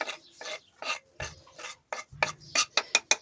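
A spoon stirs a thick cottage cheese mixture with finely chopped dill and flour, making close, repeated rasping scrapes in a steady rhythm that speeds up toward the end, with no talking.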